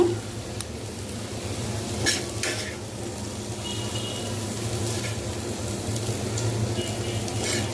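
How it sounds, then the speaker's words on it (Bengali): Green beans frying in a generous amount of oil for sim bhaji, a steady close sizzle with a low hum and a few scraping stir strokes, no talking. "একটু তেল বেশি দিয়ে দিয়ে যাচ্ছি সিম ভাজি"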